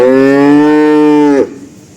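A calf about twenty days old moos once, long and loud and close by, a steady bellow that cuts off abruptly into near quiet.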